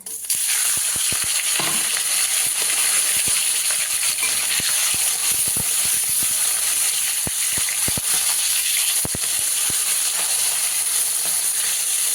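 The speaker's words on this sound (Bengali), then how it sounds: "কড়াইতে সর্ষের তেল দিয়েছি, তেলটা গরম হয়ে গেছে, ইলিশ মাছের মাথাগুলো ভেজে নেব।" Hilsa fish heads fry in hot mustard oil in a wok, a loud, continuous close-up sizzle and hiss peppered with sharp spitting pops throughout, with no voices.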